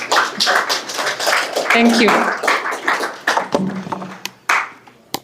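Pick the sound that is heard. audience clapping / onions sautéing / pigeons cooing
audience clapping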